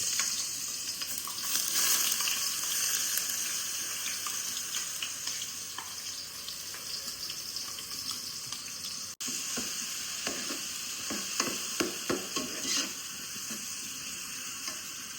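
Onion paste fries in hot oil in a kadai with a loud, steady sizzle, joined later by a series of close scraping and clicking stirs.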